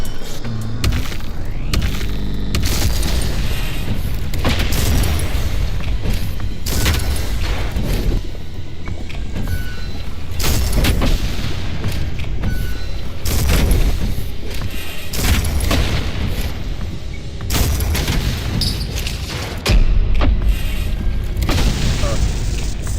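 Punched bullets burst in a video game, a string of loud booming explosions and thuds repeating irregularly every second or two over a dense, noisy game mix.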